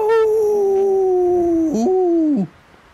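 A person howls in imitation of Bigfoot, a loud, close, sustained tonal wail that holds steady, breaks and rises briefly, then cuts off, with no other sounds.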